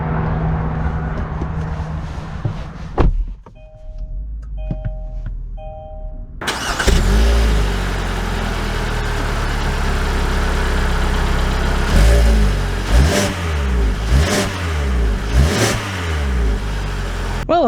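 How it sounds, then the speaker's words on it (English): A 2022 Kia Sportage, a compact SUV, starts its engine after a brief quiet, then pulls away and accelerates with loud, rising revs and several distinct surges as it gets under way. "And let's take it out, see how it drives."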